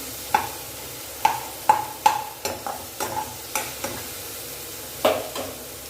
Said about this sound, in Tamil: வெங்காயம் தக்காளி சோம்பு பிரியாணி மேலே போட்டு வதக்கிட்டு இருக்கேன்